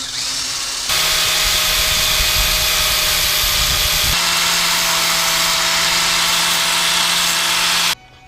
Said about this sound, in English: Those holes, drill bit didn't want to just go through them all perfectly at the same angle, so I'm just gonna run this through to make sure.